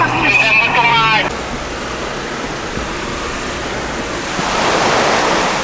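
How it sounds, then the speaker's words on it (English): An off-road vehicle fords a river near Bowman Lake, California, with steady rushing water and splashing surf-like noise building toward the end, after a brief stretch of talk at the start. "River crossing."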